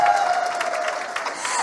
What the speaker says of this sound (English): Let's clap for Rebecca Miano.